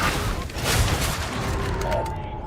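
Rapid bursts of shotgun fire in the Dune video game crackle densely and continuously over a rumbling battle backdrop, with shots overlapping in a loud, sustained barrage.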